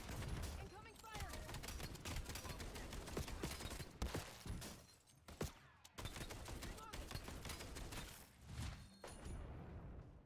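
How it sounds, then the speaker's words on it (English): Battle gunfire in the Call of Duty Black Ops 7 shooter, faint, dense bursts of shots and thuds running almost continuously, with short gaps and a few sharper cracks, while someone talks over it. "Incoming fire."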